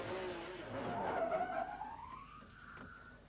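McLaren GT race car spinning during qualifying at Laguna Seca in 1997, a rising tyre screech with engine noise that sweeps up in pitch and then fades out.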